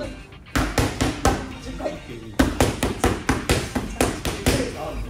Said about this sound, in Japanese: 蹴りの音すごい